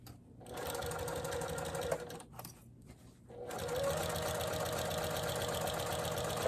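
A sewing machine fitted with a walking foot runs steadily while stitching a makeup toiletry bag with a zipper, then briefly stalls and labors over a bulky seam hump before resuming its close, even mechanical whir.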